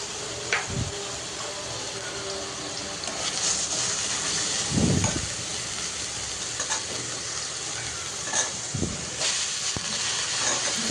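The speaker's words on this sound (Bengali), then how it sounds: "প্রথমে তেল দিয়ে তেলটা একটু গরম হওয়ার পর পেঁয়াজ কুচি দিয়ে দিলাম" Chopped onion sizzles in hot oil in a pan for potato bhaji, giving a steady close hiss with a few louder clatters and stirring knocks, and no voices.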